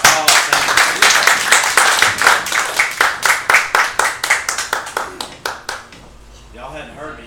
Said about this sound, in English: Hold that applause.